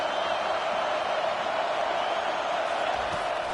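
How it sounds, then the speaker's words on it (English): A football stadium crowd roars steadily at an Ohio State game as the defense takes the field, a dense, continuous wash of massed voices with no single voice standing out. "listen to the roar of this crowd"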